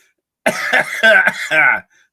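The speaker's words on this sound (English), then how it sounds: "Still fighting this stinking cough." A person coughs three times in a quick, harsh burst, close and loud, then falls quiet.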